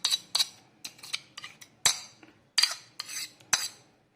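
A metal ladle scrapes and clinks against a pot while stirring milk being reduced down for palkova, about a dozen sharp close strokes in an uneven rhythm, with no talking.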